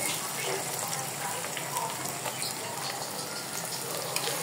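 Chopped garlic and onion frying with chilies in a pan while being stirred, giving a steady, close, busy crackling sizzle with small pops scattered throughout.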